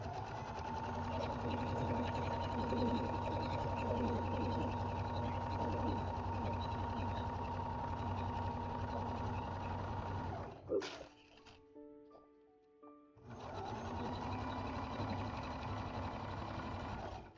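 A sewing machine bastes stitches around a handmade Vera Bradley–style purse, whirring steadily and close for about ten seconds, pausing with a few faint clicks, then running again.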